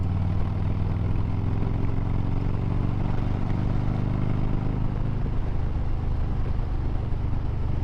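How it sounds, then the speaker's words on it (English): A Harley-Davidson Low Rider ST with the 117 engine runs steadily, a deep continuous rumble at constant loudness with no talk over it. "But here's why I like this 117 engine."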